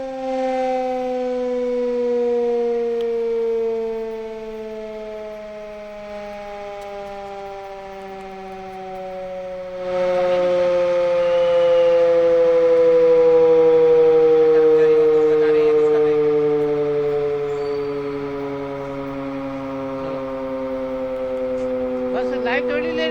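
Civil defense siren sounding during a mock civil-protection drill in Jaipur, a loud sustained wail that slowly rises and falls across the whole stretch, swelling louder midway, with no talk over it.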